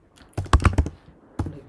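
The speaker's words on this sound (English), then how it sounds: "you can just start typing over here" Typing on a computer keyboard, close up: a quick cluster of four or five sharp key clicks, a brief pause, then a couple more taps in otherwise quiet surroundings.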